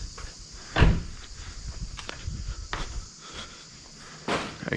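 A workshop drawer holding Allen keys slides open with a sharp clatter near the start, followed by quieter knocks and rattles of tools shifting inside and a final scrape as it moves again.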